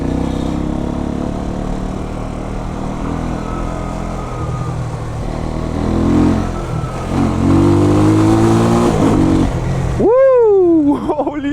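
A Jamco motorcycle fitted with an Eagle engine is ridden, its engine droning and rising in pitch as it revs and accelerates, loud and close, with a sharp whining sweep near the end.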